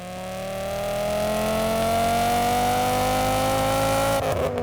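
A swapped engine in a Volvo 850 on a dyno winds out steadily to 7,000 RPM, its loud tone climbing smoothly for about four seconds before the throttle lifts and it drops with a rough, crackling cut.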